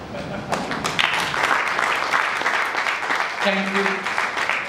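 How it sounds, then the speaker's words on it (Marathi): Audience applause at a launch event for a Marathi television serial, a dense wash of clapping that continues throughout while voices talk over it. "मला आणि कलाकारांना सगळ्यांनाच आनंद होईल जर आपण टाळ्या वाजवल्या"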